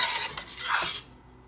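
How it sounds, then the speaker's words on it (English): A spoon scraping and scooping cooked spaghetti and rotini into a skillet, a brief close rasp and soft clatter of metal against pan that fades out. "if you just want to keep spooning your spaghetti and rotini in your skillet"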